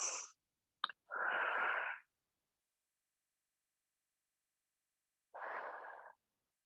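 Deep, strong breaths in a home yoga class held in a bedroom, close and soft: a quick sniff followed by a long airy exhale, then silence and another slow breath.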